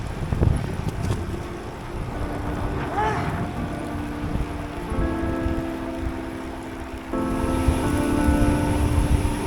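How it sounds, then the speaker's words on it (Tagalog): Strong wind buffets the microphone over a rumbling boat engine at sea, with faint background voices and a rising drone toward the end. "Pero hanggang dito sa dagat ayaw kami tantanan ng hangin."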